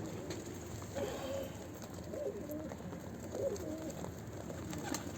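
Pigeons cooing softly in a loft setting, a few low repeated coos rising over a steady background hum, moderately near.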